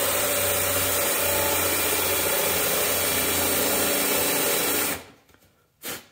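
A power drill whines continuously at high speed for about five seconds while drilling a hole in a kayak, then stops, followed by a short burst of handling noise.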